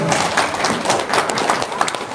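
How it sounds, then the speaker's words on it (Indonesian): A gathering audience breaks into a brief burst of dense, steady clapping on request during a talk on local farming wisdom, with the crowd's hands filling the room evenly for about two seconds. "Tepuk tangan dong."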